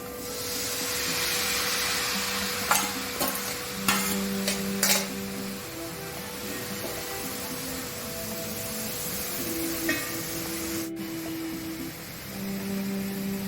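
Cut elephant foot yam flower goes into hot masala in a pan, producing a steady broadband sizzle under a constant hum, with a few sharp clinks and stirring scrapes.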